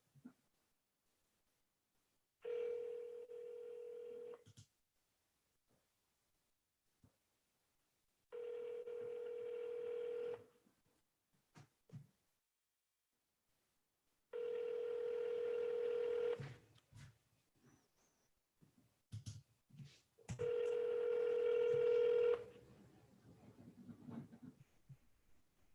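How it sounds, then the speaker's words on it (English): A phone call's ringback tone sounds four times, each a steady two-second burst separated by about four seconds of silence, close and clear with no talking. "So I'm going to call the next one."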